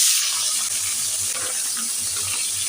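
Small tengra fish dropped into hot oil in a pan, sizzling with a bright continuous crackle and some clattering, close and steady for the whole stretch.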